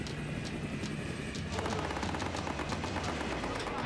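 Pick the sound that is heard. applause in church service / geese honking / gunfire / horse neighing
gunfire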